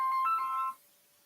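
An incoming call on a mobile phone rings as a clear electronic melodic tone, close and fairly loud, for about three quarters of a second before cutting off into near silence.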